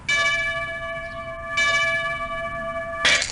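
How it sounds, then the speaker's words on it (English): Liberty Bell cracking, a sound effect in the You Don't Know Jack game: two loud, resonant bell strikes with long ringing tones, then a sudden harsh crack-like crash at the end. "That sound you heard was the Liberty Bell cracking in Philadelphia."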